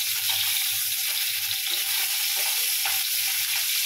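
Tangra fish frying in oil in a pan, a bright, continuous hiss and crackle of hot oil, close and steady for the whole stretch, with no one speaking.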